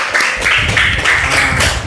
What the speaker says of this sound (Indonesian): Kita kasih tepuk tangan yuk, kita kasih aplaus.